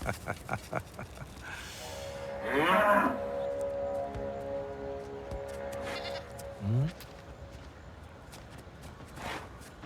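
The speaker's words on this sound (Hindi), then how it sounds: "वहाँ एक बेचारी बकरी फंसी हुई है।" A trapped goat bleats loudly twice, the calls wavering and strained, with a quieter bleat near the end, over a rural background of people talking.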